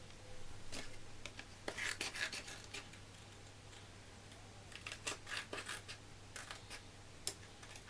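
Scissors snip through paper letters for a handmade teen's card in soft, quiet bursts of short cuts with pauses between them, close and faint against a low steady hum.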